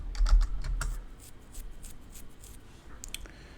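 Typing on a computer keyboard, a quick run of soft clicking keystrokes up close, dense at the start and then more scattered, with quiet room tone in between.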